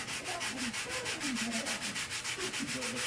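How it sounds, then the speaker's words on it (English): Sandpaper rubs over a panel of a 1/16 scale RC General Lee car body in steady, rhythmic back-and-forth strokes, close and continuous. "We want to sand probably here."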